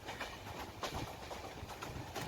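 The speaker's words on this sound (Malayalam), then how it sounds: "ഇനി സെൻട്രൽ സ്റ്റേഷൻ ലക്ഷ്യമാക്കി ട്രെയിൻ പായുകയാണ്" A passenger train runs toward Thiruvananthapuram Central station on the Kottayam to Kanniyakumari route, giving a steady rolling rumble with faint rhythmic clicks of wheels over rail joints, heard from inside, with no talking.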